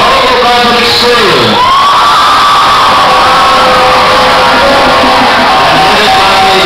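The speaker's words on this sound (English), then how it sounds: "another round of applause for the Bauru Public School" Crowd at a school event cheering and shouting loudly, a dense wall of voices with whoops rising across the whole stretch, close and continuous.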